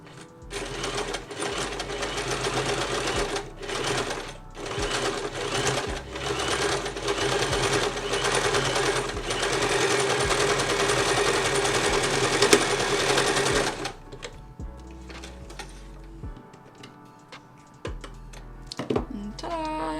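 A sewing machine stitches over fabric gathers at normal stitch length, running loud and steady in close bursts separated by short pauses, then settling into softer intermittent handling sounds near the end.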